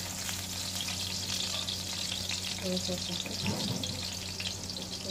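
Sautéing in a pan with lots of oil while cooking paklay, beef tripe stew, a steady moderate sizzle with occasional stirring clatter and faint speech underneath.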